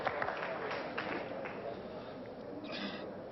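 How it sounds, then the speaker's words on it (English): A crowd cheers and murmurs at the 1989 Brunswick World Open pool match between Earl Strickland and Howard Vickery, a steady broadband roar of voices with a few bursts of clapping. "Crowd is rooting."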